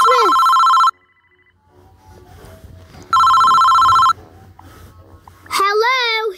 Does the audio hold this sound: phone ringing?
yes